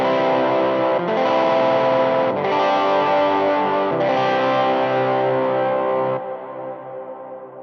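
A MIDI-triggered ambient electric guitar with a gritty, distorted tone and chorus-like effects rings out in sustained chords, switching to new chord voicings about every second or so before a softer final chord fades out. No one speaks.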